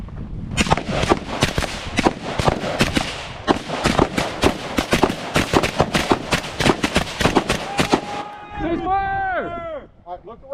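Rapid rifle shots crack loud and close in an uneven string of about two dozen reports while the shooter advances, followed by a voice shouting briefly at the end.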